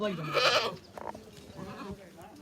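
A goat gives a loud, close bleat at a busy Punjabi goat market, followed by quieter market noise and brief voices in the background.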